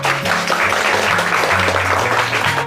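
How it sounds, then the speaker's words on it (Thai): Children in a Thai classroom applaud a classmate for a correct answer, a dense, steady clapping that fills the short moment from start to end, with a low musical tone beneath. "ปรบมือให้เพื่อนหน่อยค่ะ"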